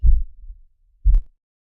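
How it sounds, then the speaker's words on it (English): A heartbeat sound effect cued during a sports talk show: two deep, muffled low thumps about a second apart, loud and alone with no talking. "Cue the heartbeat."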